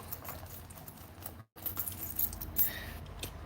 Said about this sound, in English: I just dropped the keys in here.